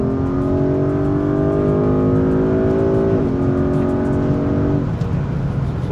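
A Porsche Cayenne Turbo accelerates hard, its loud steady engine drone rising in pitch, dipping briefly at a gear change and climbing again, with no talk over it.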